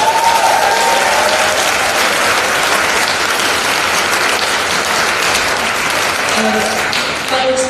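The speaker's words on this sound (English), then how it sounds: "Clap yourself into a carnal commotion" Audience applause greets a writer at the New Writers Showcase 2018, a loud, dense and steady clapping from a full room that holds for several seconds and fades slightly at the end, with a few voices rising above it.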